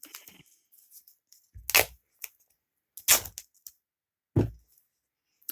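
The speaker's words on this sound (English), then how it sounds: "I'm going to take a piece of white duct tape" White duct tape torn off the roll in three sharp, loud ripping bursts separated by short pauses, with small handling rustles between them.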